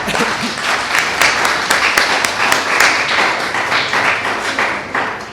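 Lively applause from an audience at a university panel on electoral runoffs, a close, continuous patter of many hands that carries through with sharp individual claps standing out.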